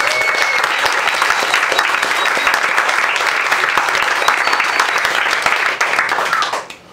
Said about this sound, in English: We should give them a nice round of applause.